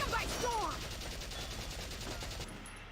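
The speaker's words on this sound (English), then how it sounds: "But we're trying to get some synchronous fire here." Gunfire in the war strategy game Valkyria Chronicles, a dense, continuous rattle of shots like a sustained fusillade lasting nearly three seconds, with brief tonal game effects near the start.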